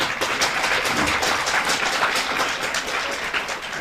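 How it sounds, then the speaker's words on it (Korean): An audience at a lecture by the mayor of Pocheon applauds: steady, dense clapping from many hands, fairly loud and even throughout, with no speech over it. "박수 한번 치세요."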